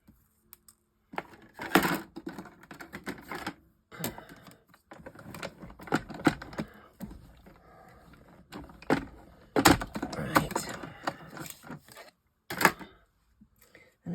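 Scissors snipping cardboard pieces out of a Gummiapan advent calendar sheet, close up, in irregular bursts of clicks and rustles with short pauses between cuts.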